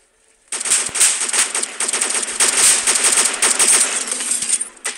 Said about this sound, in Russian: Непонятно, кто по мне стреляет, потому что я не вижу.